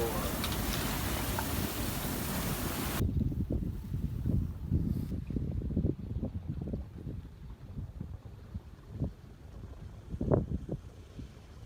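Strong wind roars across the microphone aboard a sailboat at Punch Bowl, Labrador, at first, then drops to gusty buffeting with irregular thumps and knocks of the moving boat.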